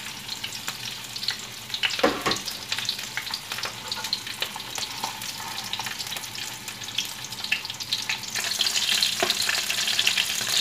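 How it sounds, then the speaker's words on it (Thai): Chilies frying in a pan for a Thai mackerel chili paste, a continuous close sizzle and crackle with occasional stirring clatter, growing slightly louder toward the end. "ทอดไปเรื่อยๆค่ะ"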